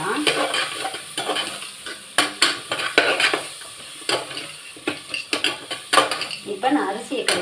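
Cauliflower being stirred into tomato rice in a metal pan, with a steady series of scraping and clinking spoon strokes over a soft sizzle.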